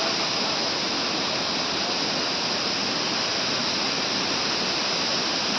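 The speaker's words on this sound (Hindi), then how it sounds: "बहुत ही सुंदर झरना, उत्तराखंड में प्राकृतिक संपदा भरी पड़ी है।" Himalayan waterfall near Nandprayag on the way to Badrinath in Uttarakhand, a steady, dense roar of falling water filling the whole clip at constant loudness with no voices.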